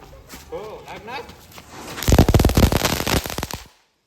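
A rapid series of sharp Diwali firecracker bursts crackles close by for a couple of seconds, following a stretch of quieter background voices.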